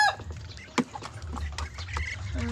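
Pet ducks kept at home making short clucking, quacking calls, a few brief bursts close by over a low rumbling background.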